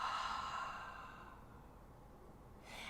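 A long, soft exhale during a gentle yoga session with cooling breath, one slow sigh-like breath close to the mic that fades out, followed by a brief airy sound at the end.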